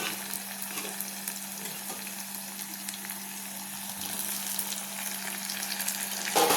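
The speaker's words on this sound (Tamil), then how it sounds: "தக்காளியும் நல்லா வதங்கட்டும்" Tomatoes and onions frying together in a pan give a steady, soft sizzle with occasional light stirring, close by and unbroken, with a faint constant hum beneath and no talking.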